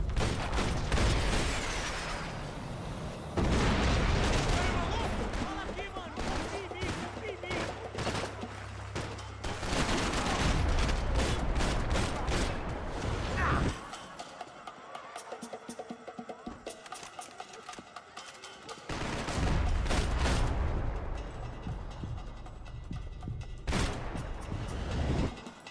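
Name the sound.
rocket launcher and gunfire in Max Payne 3 video game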